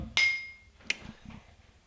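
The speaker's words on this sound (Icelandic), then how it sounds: "með þessum fína hamri sem við höfum hér til afnota" At a town council meeting in Hornafjörður, a gavel strikes a couple of times, the first knock sharp with a brief ringing tone, the next ones softer, in a quiet room without talking.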